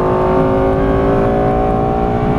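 A Lexus LFA accelerates hard on the Silverstone race track, its engine a loud, steady high-pitched howl that climbs smoothly in pitch.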